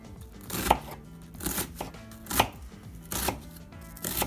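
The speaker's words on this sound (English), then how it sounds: "Now we're gonna cut up an onion." A knife chops a red onion on a cutting board in distinct, close thuds, roughly one or two strikes per second, with some faint slicing in between and no talking.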